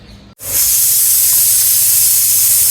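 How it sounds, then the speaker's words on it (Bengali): A pressure cooker in a home kitchen lets out a loud, steady jet of hissing steam that bursts in after a brief quiet moment and holds without a break to the end. "আমার কিচেনে অলরেডি একটা সিটি পড়ে গেছে প্রেশার কুকারে"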